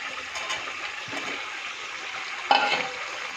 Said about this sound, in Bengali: এবার আলুগুলো দিয়ে বেশ কিছুক্ষণ আবার কষিয়ে নেওয়া হবে।